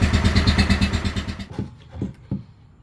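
A motorcycle engine, leaking oil, idles while warming up with a steady pulsing thrum, then cuts out, leaving a few faint clunks and knocks close by.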